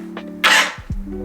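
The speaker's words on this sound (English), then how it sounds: "Whoa, I gotta sneeze." A single sharp human sneeze bursts out close and loud, a quick inhale followed by a short explosive blast, over a faint steady background hum.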